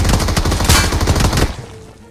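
Gunfire from the BGMI battle royale game, a dense rapid burst of loud automatic shots that stops abruptly after about a second and a half and fades into quiet.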